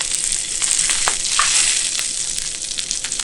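Steak sears in a hot pan with a steady, close, bright sizzle and small crackles, no talking over it.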